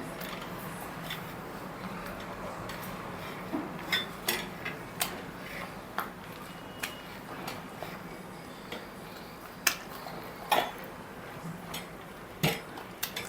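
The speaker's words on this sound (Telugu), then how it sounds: "కొద్దిగా నెమ్మదిగా ఇలా కలపండి, లేకపోతే మీద చిట్లి పడుతుంది." Ragi flour mixture for ragi sangati is stirred in a pot with a dal masher, giving irregular light clicks and taps against the vessel over a quiet background, with no talking.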